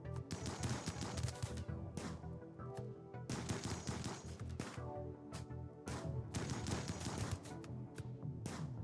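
Gunfire during an ambush in the RimWorld video game, rapid bursts of loud shots in several clusters separated by brief pauses, with no talking.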